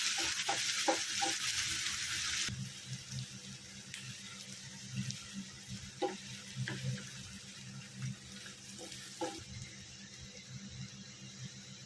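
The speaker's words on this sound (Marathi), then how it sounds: "त्यानंतर कांदा घालायचा कांदा व्यवस्थित भाजून घ्यायचा" Onion cooks in a pan for Khandeshi bharit, a steady soft sizzle punctuated by spatula stirs and scrapes, preceded by a brief burst of running water at the start.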